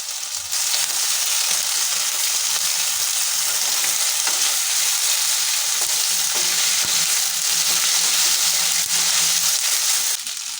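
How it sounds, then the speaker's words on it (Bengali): Greens frying hard with ginger and green chili paste for a soya chunks dish, a loud, dense crackling sizzle with occasional stirring scrapes, close by and continuous for the whole stretch without speech. "শাকগুলো একটু ভালো করে কষিয়ে নেব"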